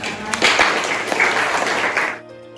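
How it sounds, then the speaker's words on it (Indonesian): Audience applause after a university talk, a dense steady burst of many hands clapping for about two seconds before cutting off into quiet. "Kita berikan tepuk tangan."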